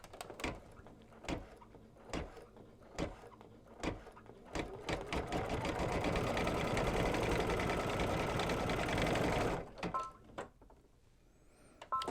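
A Babylock or Brother embroidery sewing machine stitches a quilting design in the hoop, with short mechanical bursts giving way to a sustained loud whirring run that then slows and stops, followed by a few faint clicks.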